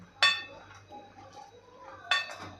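A spoon stirs a pot of village-style drumstick-pod vegetable curry, striking the metal rim with two sharp clinks a couple of seconds apart, with soft scraping between them, close by and without speech.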